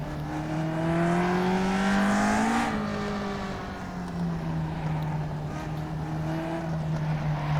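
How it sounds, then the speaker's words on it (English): A Lotus 49B race car in the rFactor 2 sim racing game drones continuously, its torquey engine rising in pitch, briefly dropping as if shifting gear, then holding a steady note, loud and up close without any talk. "Very, very torquey engine, so even from low down in third, the car wants to"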